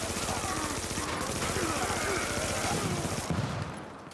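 Sustained rapid automatic gunfire from an enemy shooting at the player in the video game The Division 2, a dense, loud rattling fusillade that runs throughout the clip and then briefly drops off at the end.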